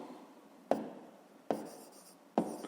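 A pen writes numbers on paper during a fifth-grade maths exercise. Three distinct strokes each start with a sharp tap and trail into a soft scratch. The writing is close and there is no talking.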